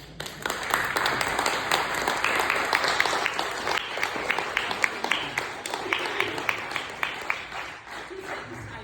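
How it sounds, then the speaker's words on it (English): Loud, sustained applause from a theatre audience at the end of a play, dense rapid clapping filling the room for several seconds before tapering slightly. "I thank you for the applause"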